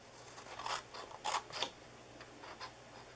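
Scissors snipping off a corner of scored paper for a cupcake box, a few short crisp cuts close by and fairly quiet, spaced irregularly over a faint background hum.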